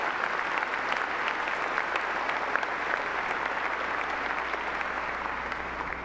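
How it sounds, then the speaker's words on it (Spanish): A church congregation applauds during Mass, a steady, dense clapping that carries on evenly for several seconds and fills the space with no voices over it. "Les damos un aplauso también a todos los hermanos y hermanas consagrados."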